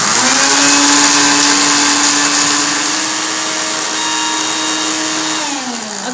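A blender grinds a homemade curry spice mix containing turmeric pieces, a loud, steady high-pitched whirring that runs unbroken, then winds down slightly near the end.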